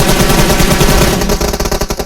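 Loud, rapid automatic gunfire in PUBG Mobile, dense continuous bursts of shots rattling close by with no pause.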